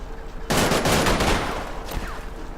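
Troops open fire in the Combat Mission game, a sudden loud burst of sustained gunfire that starts after a quiet moment and rolls on as a dense fusillade, easing slightly toward the end.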